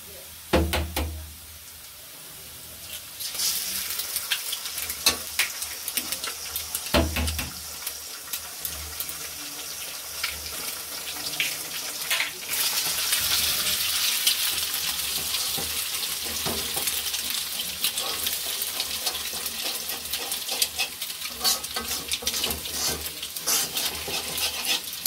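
Cabbage with egg frying in oil in a pan, with garlic, a steady sizzle broken by repeated scrapes and clinks of a spatula stirring, close and fairly loud, no talk.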